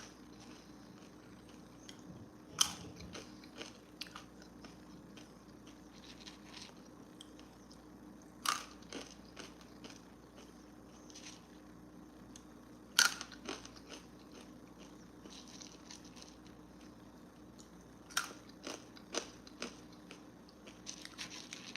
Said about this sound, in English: hear my crunching like an ASMR